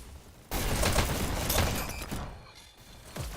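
Gunfire bursts in a VR e-sports match, a sharp onset followed by a dense, sustained rattle of shots that fades over a few seconds, fairly close and loud with no talk.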